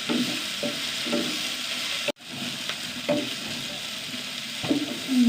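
Six small onions and sliced onions sautéing in a pan, a steady sizzle with intermittent stirring scrapes recurring every second or so, close and alone without talk.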